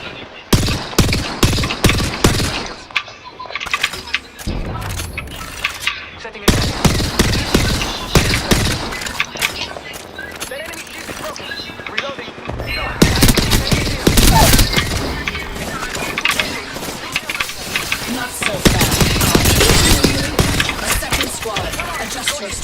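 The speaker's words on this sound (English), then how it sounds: "Oh, getting shot at." Video game gunfire comes as dense, loud bursts of rapid automatic fire and sharp shots, repeating in clusters throughout with brief lulls between volleys, while a voice speaks at times.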